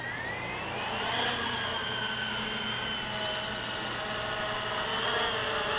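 Motors of a modified Walkera X350 Pro quadcopter drone whine steadily at takeoff, a close, sustained high-pitched buzz with rising and shifting tones and no talk.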